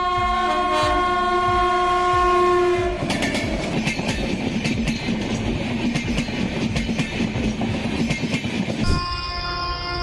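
A train passes close by, its horn sounding long and loud over the rumble. Then steady clickety-clack from the wagons rolling past, with another horn blast near the end.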